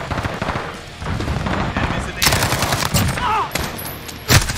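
Loud unsilenced gunshots in a Call of Duty Modern Warfare hardcore team deathmatch on the Grazna Raid map, sharp bursts over a busy battle bed with a few heavy cracks, and a voice talks underneath.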